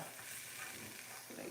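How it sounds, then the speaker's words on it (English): Peppers and onions sizzle steadily in a hot pan, a soft, even frying hiss held at low level throughout without any talk. "I'm gonna go ahead and put my peppers and onions up in here also."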